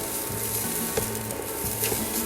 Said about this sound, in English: Then cook with our onions.